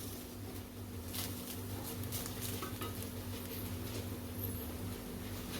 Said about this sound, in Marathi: आता नारळ आपण एक ते दोन मिनटं चांगला परतून घेतलेल्या आहे तुपावरती